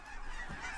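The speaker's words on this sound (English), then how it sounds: "There's a lot of little geese and specks." Brief, faint honking of geese in the distance, a short nasal call over a soft background.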